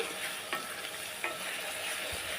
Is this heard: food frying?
yes